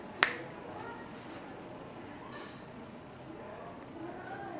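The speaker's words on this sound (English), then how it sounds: "When I snap my fingers." A single sharp finger snap near the start, close and crisp, followed by quiet room tone and faint background murmur.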